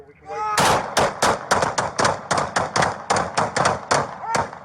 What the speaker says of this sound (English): Cease fire. Shots fired. Shots fired.